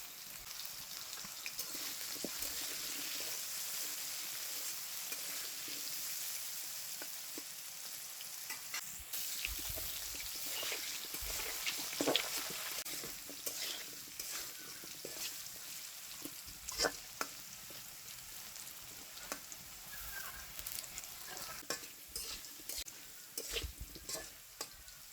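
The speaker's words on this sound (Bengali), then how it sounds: "আলু ভাজা হয়ে গেছে, আলুটা উঠাইয়ে নেই" Potatoes frying in a pan with salt and a little turmeric, a steady crackling sizzle with occasional stirring scrapes, continuous and close throughout with no voices.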